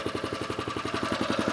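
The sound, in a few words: wildfire pump engine idling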